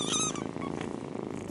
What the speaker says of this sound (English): Your cat purrs when it is with you.